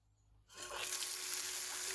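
A water pump switched on and gushing about 500 gallons per minute into a Micro Banker and Adventure Sluice for gold cleanup; near-silence gives way abruptly to a loud, steady, broadband rush of water that continues to the end.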